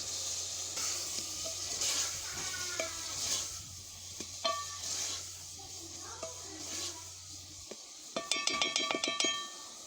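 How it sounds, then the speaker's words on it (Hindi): Beef keema frying in a pan in a village kitchen, a moderate sizzle with scattered crackles and soft stirring scrapes, then a run of metallic spoon clinks against the pan near the end. "अभी इसको हम फ्राई करेंगे और मज़ीद इसको 5 मिनट तक इसको हम फ्राई करेंगे"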